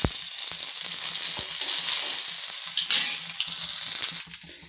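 Curry leaves dropped into hot oil for a Kerala raw mango curry sizzle and crackle in a loud, steady hiss, close up, with light stirring clinks and no talking.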